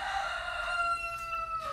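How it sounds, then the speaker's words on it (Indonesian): A rooster crows in one long, loud, drawn-out call that falls slightly in pitch, heard close by with no talking. "kalau nggak gue potong dia berkokok terus"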